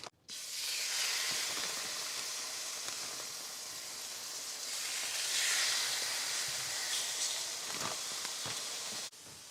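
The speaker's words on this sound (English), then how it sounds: "You want to put a little bit of oil in your pan. Oil of your choice. We are going to drop a couple of steak in there." A couple of steaks hit an oiled pan on the stove and sizzle with a loud, steady hiss that swells midway and cuts off abruptly near the end, with no voice.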